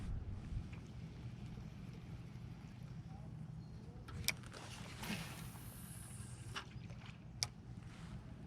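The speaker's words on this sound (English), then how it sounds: "The wind is blowing pretty strong." Strong wind buffeting a drifting fishing boat on a reservoir: steady low rushing gusts with a few sharp knocks and clatters against the hull, fairly quiet overall.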